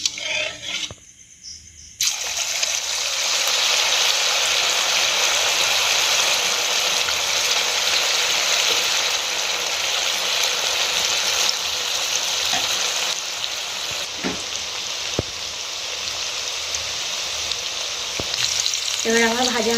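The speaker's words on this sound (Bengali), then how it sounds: "এবার সয়াবিনগুলো দিয়ে দেবো।" Marinated soybean chunks drop into hot white oil in a kadai and set off a loud, steady close sizzle that runs on almost unchanged, with occasional light clinks of a utensil.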